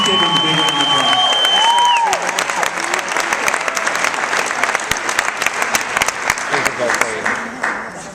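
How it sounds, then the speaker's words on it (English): A large audience claps and cheers at the Tony Horton Summit, a loud sustained wave of applause with crowd voices mixed in, peaking early and holding strong before easing slightly near the end. "Please give him a big round of applause"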